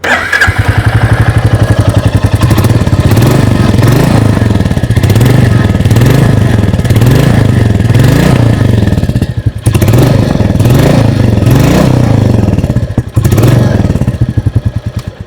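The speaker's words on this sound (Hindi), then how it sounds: "आइए अब सुन लेते हैं इस बाइक की एग्जॉस्ट नोट।" A 2026 Royal Enfield Bullet 350 Black Gold single-cylinder motorcycle exhaust thumps steadily at idle, loud and close, with a couple of brief blips in the rhythm.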